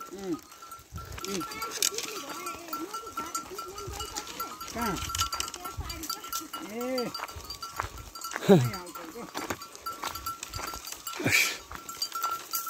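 Goats in a herd being taken with sheep to the forest bleat repeatedly at middle distance, wavering calls scattered through the scene while people talk nearby and faint outdoor noise continues underneath.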